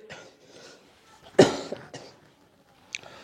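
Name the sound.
cough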